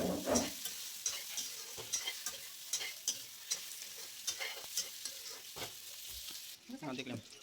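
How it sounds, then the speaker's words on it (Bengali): Taro pieces fry in a pan with a close, steady sizzle while a spatula scrapes and stirs in regular rhythmic strokes, fairly quiet overall. "এখন কচুগুলো অল্প টাইম ভাজা নেওয়া লাগবে"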